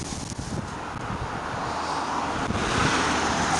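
Strong, frosty wind roars steadily against the microphone beside a highway, a dense rushing buffet that builds slightly over a few seconds, with no voices.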